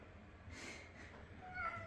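Domestic cat meowing indoors at feeding time, a couple of clear mid-pitched meows close to the listener over a quiet room hum, with no talking.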